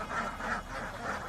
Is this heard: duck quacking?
yes